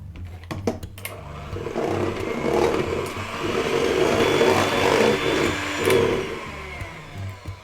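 An electric hand mixer whips cream flavoured with vanilla and pumpkin spice, a steady close motor whir with a churning wash that rises and falls, after a few clicks and knocks at the start.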